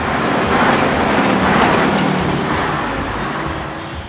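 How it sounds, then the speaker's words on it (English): An 80-year-old military truck with no power steering, a non-synchro gearbox and a big gun on the back moves slowly through modern traffic, its engine a loud, close rumble that fades slightly toward the end. "Driving an 80-year-old vehicle with no power steering, no power brakes, a non-synchro gearbox requires a lot of skill"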